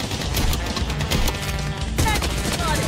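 Rapid shotgun blasts and automatic fire from the Blood Strike game crackle densely and loudly without pause, with a few metallic clinks near the end.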